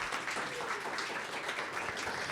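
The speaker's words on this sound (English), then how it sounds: "I want to get a round of applause to our panelists today" An audience claps for the panelists at the end of an artist support programs panel, a fairly quiet, continuous patter of applause with no voices over it.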